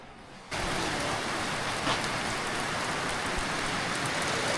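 Steady rain falls outside a shop, a dense even hiss that starts abruptly and carries on alone, with a few heavier drops and taps standing out.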